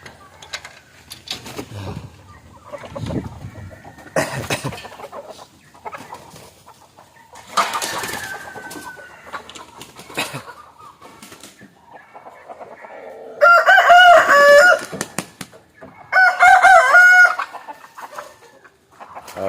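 Native country chickens cluck sporadically nearby as they are let out of their coop, then a rooster crows loudly twice in close succession toward the end.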